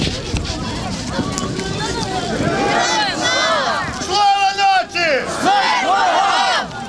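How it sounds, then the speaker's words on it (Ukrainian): Crowd of marchers in a patriotic procession through city streets shouting calls in unison, with overlapping raised voices and chant-like cries swelling and falling over wind noise. "Заклики та вигуки патріотів"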